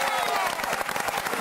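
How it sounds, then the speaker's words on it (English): A studio audience on a Christmas TV music quiz show applauds and cheers for a guest named Yala, a lively, fairly close burst of clapping mixed with crowd noise and some voices. "Ladies and gentlemen, can we have a round of applause for Yala?"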